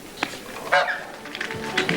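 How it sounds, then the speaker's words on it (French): Several geese honk in short, scattered calls, some overlapping, at moderate distance over a quiet outdoor background. "Alors, on les voit, ces oies."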